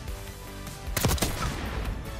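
Hip-fire gunshots in Black Ops 6, a brief loud burst of rapid shots in the middle of the clip over steady game noise.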